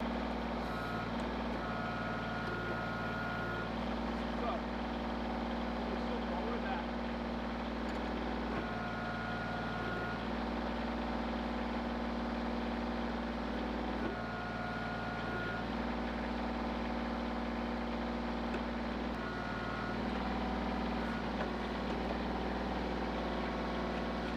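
Kubota L3200 tractor with a BH77 backhoe running steadily at about 2400 RPM PTO speed, a continuous low engine drone with a repeating high beeping tone cycling on and off throughout, no talking.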